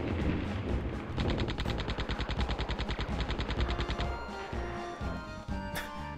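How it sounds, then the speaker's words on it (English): Enemy gunfire in the PS1 game Gex 3: Deep Cover Gecko, rapid rhythmic bursts of automatic shots repeating for several seconds over game background sound, then fading into ambient game audio. "I hear them still shooting at me."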